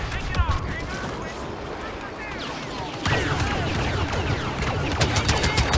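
Rapid gunfire in the Star Wars Battlefront multiplayer game, with dense bursts of blaster shots crackling close and far across a busy battle, growing louder and thicker in the second half, with someone talking over it.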